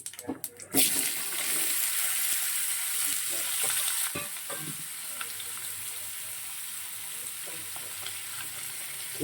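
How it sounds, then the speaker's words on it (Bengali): White cumin seeds are dropped into hot oil for tempering. A sharp burst of crackle hits first, then settles into a bright, steady sizzle that softens slightly partway through. "তেলটা গরম হয়ে গিয়েছে, সাদা জিরে ফোড়ন দিলাম।"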